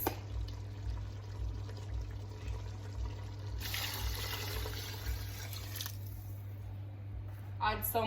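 Water pours into a pot of curry goat with peppers, thyme, garlic, scotch bonnet and scallion, a soft splashing trickle over a steady kitchen hum, with a brief clatter near the end.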